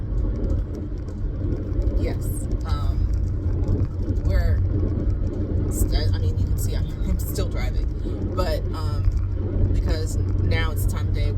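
Car driving home through heavy rush-hour traffic: continuous low engine and road rumble inside the cabin, with voices talking over it throughout.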